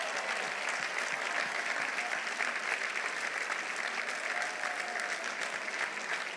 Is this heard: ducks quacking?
no